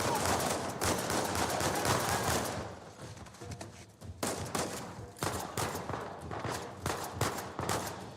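Rapid shotgun blasts and gunfire ring out in a firefight in Uncharted: Legacy of Thieves, dense and loud bursts in clusters with short pauses between volleys.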